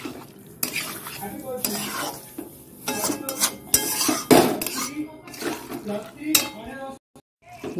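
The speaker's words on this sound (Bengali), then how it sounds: "দেখো এটা কষানো হচ্ছে" Skin-on chicken pieces are stir-fried in plenty of oil, with a metal spatula clanking and scraping against the pan in irregular bursts over a faint sizzle, with brief pauses between strokes.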